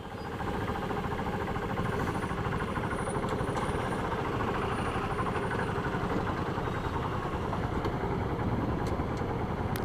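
A Honda Biz motorcycle idles in neutral, its small engine putting out a steady, close, moderately loud mechanical putter that holds unchanged throughout.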